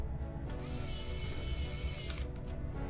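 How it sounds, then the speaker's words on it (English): Small Phillips screws being driven into a PS3 disc drive during a laser and drive replacement, heard as close, continuous scratchy ratcheting and grinding of a hand screwdriver with a few brief clicks. "Now we're ready to install these two small Phillips screws here"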